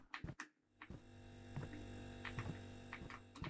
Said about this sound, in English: Maybe I just heard the fridge.